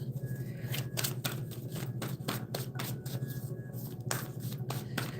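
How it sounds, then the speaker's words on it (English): A deck of playing cards being shuffled by hand, a steady stream of soft irregular riffles and flicks at close range with no speech. "So I'm just gonna take half the deck and reverse it. Okay, make sure it's reversed. Then I gotta shuffle it."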